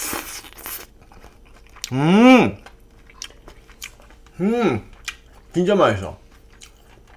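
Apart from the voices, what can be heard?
eating pork jowl rice bowl with onion and chili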